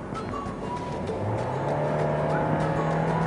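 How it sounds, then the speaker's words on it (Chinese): A Honda Freed seven-seat family MPV accelerates at full throttle, its engine droning loudly and climbing steadily in pitch toward 5000 rpm, heard from inside the cabin over road and wind noise. "比如说我现在全力加速，"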